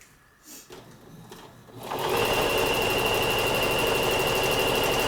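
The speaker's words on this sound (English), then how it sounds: "then just sew it across" Sewing machine stitching across a fabric gift sack, starting after a quiet moment of small handling noises and then running as a loud, steady, fast mechanical whir that continues without a break.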